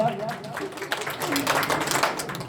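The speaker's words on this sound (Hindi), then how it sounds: "बजाओ ना ताली फिर यार।" An audience at a BJP election rally in Gairsain claps in a brief, uneven burst, the patter mixed with a man's speech and crowd murmur.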